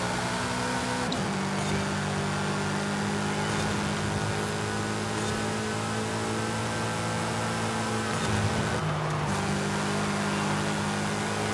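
A racing car engine in the Forza Horizon 5 video game drones steadily and continuously throughout, holding a sustained hum with slight pitch shifts as the car speeds along, with no talking.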